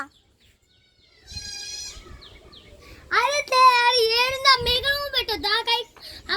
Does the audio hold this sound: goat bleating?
yes